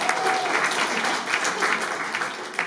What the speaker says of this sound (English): yourselves a round of applause